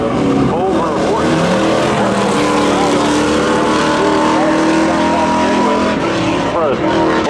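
Race cars, including a Camaro, launch at Seekonk Speedway during a spectator drag event. A loud, continuous engine roar with rising revs and some tire noise fills the whole stretch, while a commentator talks over it.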